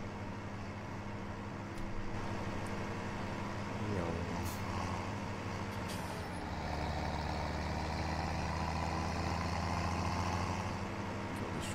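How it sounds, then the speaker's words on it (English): Tractor engine in Farming Simulator 17 hauling a Stewart trailer during silage work, a steady low drone with continuous rumble throughout, a slight shift in pitch partway through, loud and close. "This tractor's not pulling very well."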